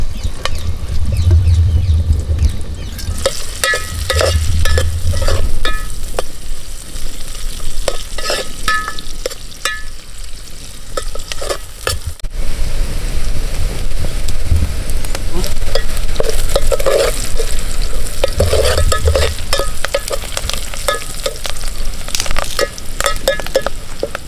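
Onions and green chilies frying and being stirred in a pan for a country-chicken dish, a steady close sizzle with repeated scraping stirs and occasional low thumps throughout, without speech.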